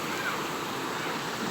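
A steady broad rush of flowing river water, continuous and fairly close, with no voices or other sounds.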